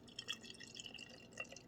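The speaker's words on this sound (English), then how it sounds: "Let's see how this pours." Keystone Light beer pours into a cup in a faint, short trickle with soft dripping and fizzing splashes, quiet and close.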